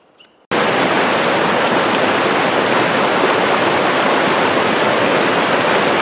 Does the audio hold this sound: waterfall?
yes